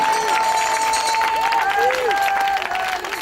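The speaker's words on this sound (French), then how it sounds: "Acclame-le, acclame-le fortement, acclame-le." A church congregation cheers and claps for the Lord in a steady, dense wash of crowd noise, with a voice ringing out above it.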